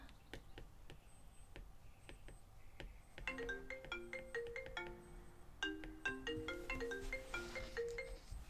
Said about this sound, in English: Sorry, that was an alarm on my phone.